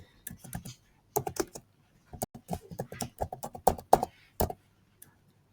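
Computer keyboard typing a name in irregular bursts of quick, close key clicks separated by short pauses, with a faint voice in the background.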